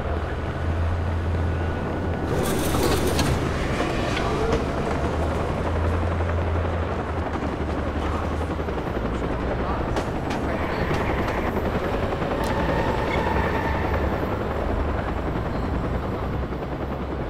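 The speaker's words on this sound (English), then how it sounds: "Southbound train arriving shortly." A Chicago L Blue Line train rolling along in the Watch Dogs video game gives a loud, continuous rumble and rattle for the whole stretch, steady and close, with no speech.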